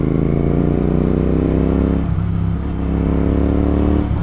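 Royal Enfield GT 650 motorcycle engine revving up close on a Sunday ride, a loud steady throb that climbs in pitch, dips briefly in the middle, then surges again.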